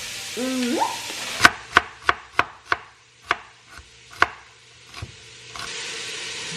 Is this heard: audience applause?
no